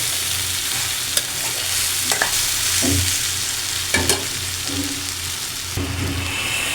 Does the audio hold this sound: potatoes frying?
yes